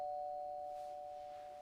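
A doorbell rings once indoors, a clear sustained electronic chime that fades slowly into quiet.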